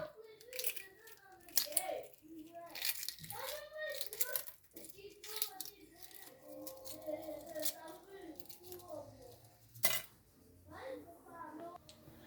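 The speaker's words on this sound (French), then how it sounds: "On va aussi retirer les œufs, la coquille des œufs, comme ça." Boiled eggshells cracked and peeled by hand in a kitchen while preparing a weight-loss salad, giving soft, close crackling and squishy handling sounds amid light clinks, with someone speaking over much of it.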